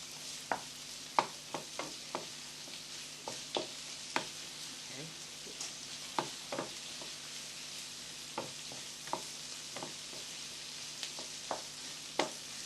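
Peppers, mushrooms and other vegetables frying in a pan for sweet and sour king prawns, a low continuous sizzle punctuated by a dozen or so sharp clicks of a utensil tossing and stirring, close and without talk.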